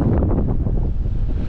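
Strong wind on an enduro trail in Valea Doftanei, Romania buffets the microphone in loud, rumbling gusts, roaring low and unsteady throughout the short stretch.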